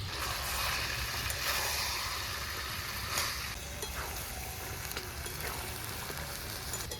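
Young jackfruit being stir-fried with ginger, garlic, chilli paste and ground spices in oil, giving a steady close sizzle with faint scraping stirs throughout.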